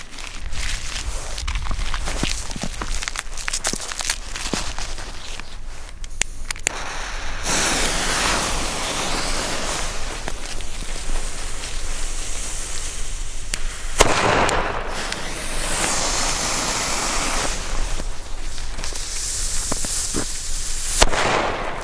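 Funke A firecrackers go off on New Year's Eve in a long rapid string of sharp cracks and pops, loud and close, with brief lulls between dense bursts and footsteps nearby.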